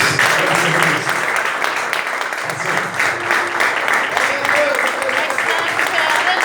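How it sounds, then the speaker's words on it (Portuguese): A church congregation claps continuously in a large room, a steady wash of applause with voices mixed in underneath. "Aplauda Jesus."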